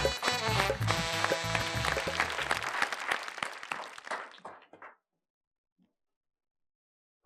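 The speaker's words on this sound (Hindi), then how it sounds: "आइए जोरदार तालियों के साथ।" Applause with music from an audience at a Hindi poetry show as a poet is welcomed to the stage, loud and full for about five seconds before cutting off to near silence.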